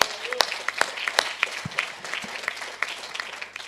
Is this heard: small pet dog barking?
no